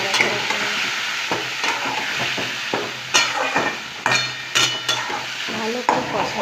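Spices with salt, turmeric, ginger-garlic paste and onion paste are stirred and fried in a pan, with steady sizzling, scraping strokes and a few sharp metal clinks, close and without speech.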